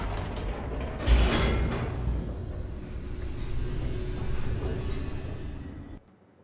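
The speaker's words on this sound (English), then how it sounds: "The elevator raced downward" Elevator descending in The Stanley Parable, a steady low mechanical rumble with creaks and a rattling clunk near the start, holding fairly loud before cutting off abruptly near the end.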